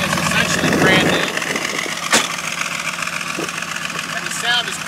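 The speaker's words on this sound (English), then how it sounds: "I think the camera can probably pick up the sound of the exhaust." Restored 1972 Chevrolet Corvette engine idling, a steady rough exhaust rumble held close throughout, with a sharp click and someone speaking over it.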